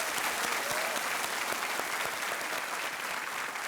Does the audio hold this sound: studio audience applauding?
yes